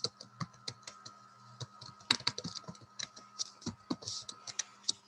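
Someone typing a name on a computer keyboard, with close, distinct key clicks in an irregular quick rhythm, some in short bursts and others spaced apart, with no talking.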